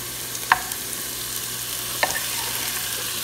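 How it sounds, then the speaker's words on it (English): A soft, steady sizzle of onion and chanterelle mushrooms frying in a pan, with two brief clicks of a utensil against the pan. "now we're just frying up the onion a little bit"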